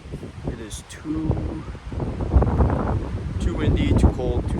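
Gusty wind buffets the microphone with a low, rumbling roar that rises and falls while a person talks over it in the background, in the Boundary Waters in early October.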